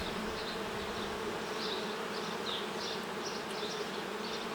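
Honey bees buzz thickly around an opened Ukrainian-Alpine hive in an apiary, a close, continuous hum with individual wingbeats drifting past and no voices.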